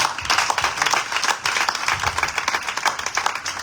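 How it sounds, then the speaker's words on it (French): Loud, dense clapping from a church congregation acclaiming during a Friday worship service, with some cheering mixed in, steady and sustained throughout. "on acclame fort devant le Seigneur"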